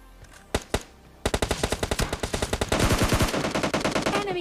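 Scar-L assault rifle fire in the video game PUBG Lite: two single shots, then a long rapid automatic burst of close, loud gunfire with no talk.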